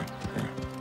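A horse on a riding course moves in quick rhythmic hoofbeats, several soft thuds in fast succession, fairly faint and close in a short burst.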